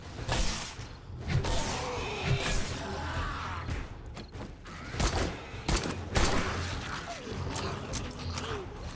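Shotgun blasts from the survival video game 7 Days to Die, several loud booming shots spaced unevenly through a busy, cluttered mix of game noise with no voice.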